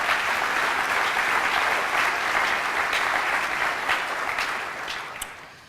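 Steady, full applause from a crowd at an anniversary breakfast for a nonprofit newspaper, a thick continuous patter of many hands that gradually eases toward the end.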